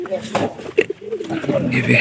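Giribaz pigeons coo softly nearby in a low, throaty murmur, with a voice speaking over them.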